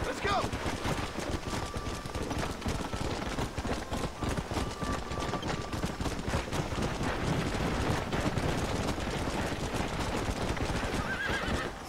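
Horse hooves clip-clop in a quick running rhythm with sharp whinnies and neighs in the Red Dead Redemption video game, close and busy, while a player talks over the game sound.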